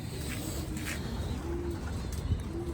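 A male racing pigeon coos in low, soft pulses against a steady background hum, the calls brief and close but faint, with no talking.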